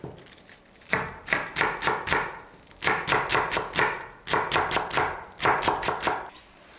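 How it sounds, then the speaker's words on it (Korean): Knife chopping green onions (scallions) on a cutting board as a topping for oysters with ponzu sauce: rapid close rhythmic taps in four bursts of about six to eight strokes each, with short pauses between them and no talk. "그 위에 곁들일 쪽파는 쫑쫑 그냥 썰으시면 돼요"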